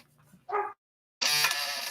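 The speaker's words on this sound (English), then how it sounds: "Yeah, that dog's really annoying." A dog barks in two bursts, a short one and then a longer, louder one close by, with no talking over it.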